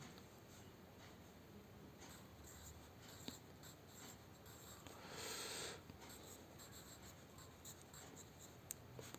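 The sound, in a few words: writing a heading on a map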